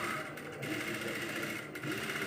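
A sewing machine stitches the neckline of a shirt or kurta, a fast continuous close whirring hum that dips briefly twice as the fabric is guided.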